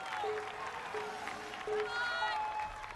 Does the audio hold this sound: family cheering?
yes